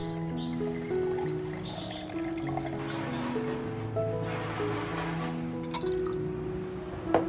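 Warm water poured steadily into a container to make a sugar soak for a weak orchid, a continuous close liquid gurgle and trickle that lasts several seconds over a low hum.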